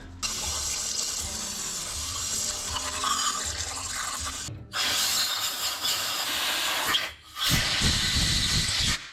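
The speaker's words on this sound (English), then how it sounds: "After blowing air through," Compressed air blasts through bolt holes on a big-block Plymouth engine in loud, sustained hissing bursts. Two brief cutoffs split the bursts, and no one speaks.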